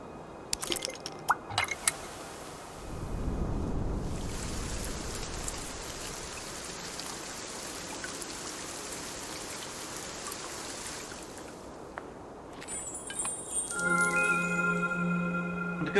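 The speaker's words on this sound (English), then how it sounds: "Now we have enough for rain again." Steady rain falls in the video game Cloud Gardens, a continuous even wash of droplets that swells in after a few scattered taps and runs on alone at moderate volume before fading under chiming game tones.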